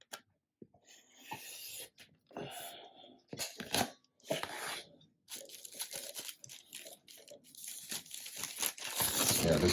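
Fabric strip being cut along a quarter ruler while piecing a quilt block, heard as close crisp crunching and scraping strokes in short bursts with pauses, growing denser toward the end, with no talking.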